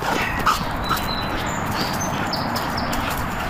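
A working dog during off-leash training outdoors, with a few faint whimpers and thin yelps over a steady background noise, with no talking.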